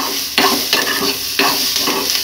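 Food frying in oil while being stirred until golden brown: a steady close sizzle broken by scraping stirring strokes roughly every second, alone without voices.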